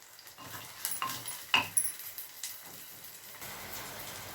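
Tomatoes fry in a clay pot for fish curry, giving a soft, steady sizzle with a few scraping stirs and light clinks, fairly quiet and close, with no talking.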